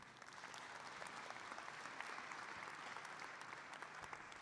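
Sustained applause from a large summit audience in Cape Town, South Africa: dense, even clapping that fills the whole stretch at steady strength, with no voices over it.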